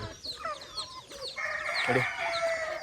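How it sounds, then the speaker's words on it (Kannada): An old rooster of about two kilograms crows out in the open, with hens clucking around it and other fowl calling in the background. "ತುಂಬ ಹಳೆಯ ಹುಂಜ"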